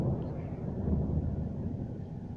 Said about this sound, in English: It's thundering real bad.